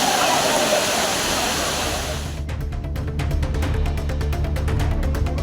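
Kaviyaruvi waterfall near Aliyar, crowded with tourists, gives off a dense, steady roar of falling water. After a couple of seconds a voice speaks over the continuing rush.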